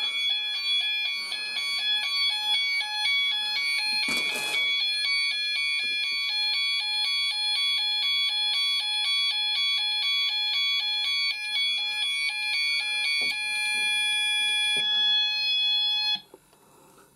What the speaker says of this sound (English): these two detectors activated quite quickly, which is very good